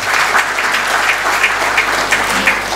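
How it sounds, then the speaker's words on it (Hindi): Audience applause at a mushaira poetry gathering in Patna, a loud, steady wash of clapping from a crowd with rhythmic pulses, close and sustained throughout with no talk. "तालियां"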